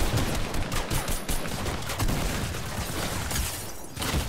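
An enemy player firing on the player in the Fortnite video game, with continuous rapid gunfire running through the whole stretch at a steady, moderately loud level.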